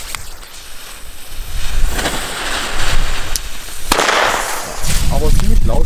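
Pyro Centauri Thunder Cracker firecrackers loaded with 2.5 g of black powder go off outdoors, with a couple of sharp loud bangs over windy, noisy background.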